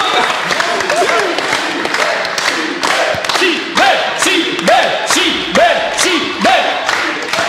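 Audience applause and cheering for the winning team of a quiz duel at PodRennes 2024, a busy mix of clapping, thumps and voices from a crowd, with talk and exclamations over it.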